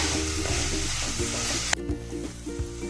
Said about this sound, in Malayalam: അപ്പോൾ ഉള്ളി ഒന്ന് വഴണ്ട് വരട്ടെ.